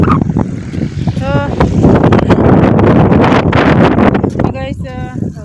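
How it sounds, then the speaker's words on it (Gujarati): Strong wind blows across an open farm field in rural Gujarat, buffeting the microphone with a loud, continuous roar, while a voice briefly speaks over it. "વાયરો બહુ જ છે આજે"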